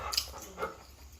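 A dog gives a couple of short, soft whimpering yelps close by in an indoor basement, brief and fairly quiet with no talk over them.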